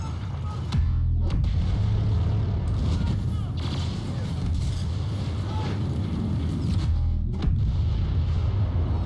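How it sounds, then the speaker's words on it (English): Airstrike explosions pound a Walker Assault battle on Scarif in Star Wars Battlefront, a dense, loud rumble of blasts and gunfire rolling continuously, with brief voices mixed in. "Airstrike incoming."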